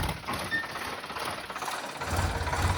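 A tractor rolls along under power, its engine chugging with a rattling, ratchety mechanical clatter that swells louder toward the end, close by and without voices.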